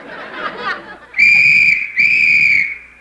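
A shrill whistle blown as a comedy sound cue in an old radio comedy sketch, two long sustained blasts with a short break between them, loud and close, following a burst of voices and laughter.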